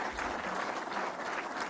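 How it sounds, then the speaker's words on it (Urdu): An audience at a Pakistani government event applauds steadily, a dense, even wash of clapping heard from a moderate distance, with no speech over it. "ان کے لیے آپ بھرپور تالیاں بجائیں"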